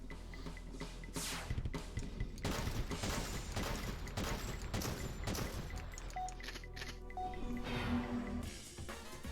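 Rapid light-gun shots fired at targets in a MAME arcade shooting game, a dense burst of sharp repeated pops followed by a few short electronic game tones, with no voice over them.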